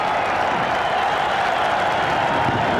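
A home crowd at a cricket Test in Perth applauds and cheers in a steady, dense roar of clapping heard from within the stands, with no single voice standing out.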